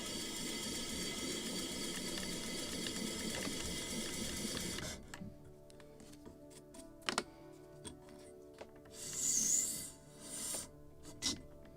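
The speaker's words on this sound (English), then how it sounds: "just a little more to sand that half" A wooden knee for a model of the 1776 gunboat Philadelphia is sanded by hand: rapid, close scratchy rubbing strokes for several seconds, then quieter scattered taps and brief scrapes.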